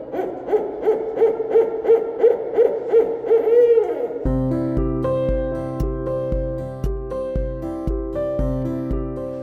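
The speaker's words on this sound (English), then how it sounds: "This is Esther, one of our burrowing owls here, and she's one of our animal ambassadors." Burrowing owl at a wildlife sanctuary in Jupiter, Florida, giving a run of about eight close, evenly spaced hoots over the first four seconds, before sustained music takes over.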